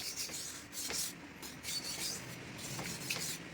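A knife blade being rough-ground against a coarse abrasive, giving a steady raspy rubbing with repeated strokes at close range and no talking.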